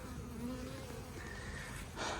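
Steady buzzing of many honeybees close by at a hive entrance, a continuous drone with a brief louder burst near the end.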